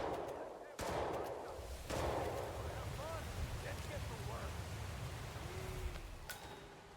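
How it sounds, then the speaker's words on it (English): Gunfire goes off at a construction site in a video game, with sharp broadband cracks near the start and around two seconds over a steady rumbling ambience, followed by scattered softer game sounds. "Peter has caused a gunshot there at the construction site"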